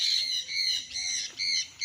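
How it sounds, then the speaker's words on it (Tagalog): Birds on a farm in Liliw, Laguna give bright, repeated squawking calls in short bursts of about four phrases, fairly close and clear, with no talking over them. "Dinig nyo po ang huni ng mga ibon."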